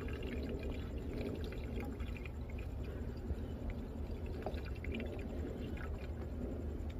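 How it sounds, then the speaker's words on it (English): Distilled water pours steadily through a funnel into the radiator of an Infiniti M45 with a VK45DE engine during a coolant flush, a continuous gurgling wash with no voices. "So right now what I'm doing is I'm filling it with water."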